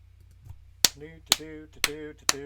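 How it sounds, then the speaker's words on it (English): Four sharp hand claps ring out at a steady pace, each followed by brief resonant tones, with a low hum underneath. "got to clap a minute here to get these things away from me"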